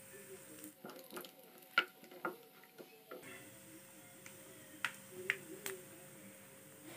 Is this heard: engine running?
no